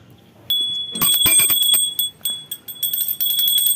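A small hand bell rings steadily and brightly in repeated shakes, close by, with clattering hits mixed in, during a Hindu puja aarti.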